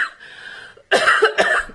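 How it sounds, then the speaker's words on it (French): A woman's coughing fit: a strained, rasping throat sound trails off, then after a short pause two sharp, loud coughs follow in quick succession, close up with no speech. "Excusez-moi, j'avais une quinte de toux."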